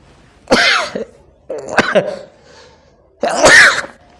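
Three loud, harsh coughing bursts, close up, separated by short pauses.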